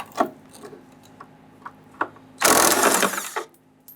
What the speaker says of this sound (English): loosen and remove that 3rd bolt or nut here